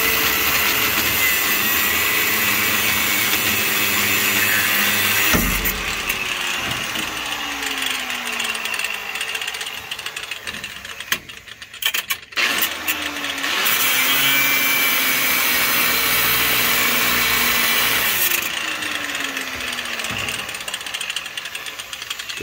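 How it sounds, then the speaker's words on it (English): A power tool cuts through a steel U-bolt while removing a Mopar 8 3/4 rear axle from a 1972 Dodge D100. A loud, continuous grinding whine shifts in pitch, breaks off briefly near the middle, then resumes. "I got one U-bolt cut. We'll have to probably cut it again."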